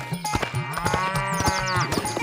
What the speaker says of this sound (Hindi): अरे ये तो रोंदू की भैंस राम प्यारी है